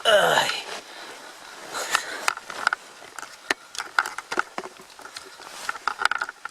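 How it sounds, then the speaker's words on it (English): Rain pattering on a wild camp in Scotland beside a small campfire, a steady scatter of irregular drops and taps, fairly close and loud, with a brief rustle at the start. "Don't know if you can hear that. The rain is on. Quite loud."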